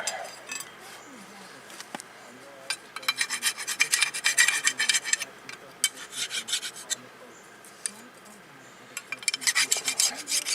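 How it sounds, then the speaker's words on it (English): Someone scrubs a brake caliper bracket from a 2017 Honda Civic front brake job with a wire brush, in rapid, rasping scraping strokes that come in bursts with short pauses between them, close to the listener. "Let's get this caliper bracket cleaned up."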